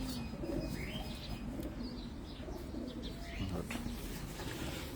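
Pigeons coo on a rooftop in Abu Dhabi, soft repeated low calls layered over a constant background hum, with a few faint chirps and light rustling of wings nearby.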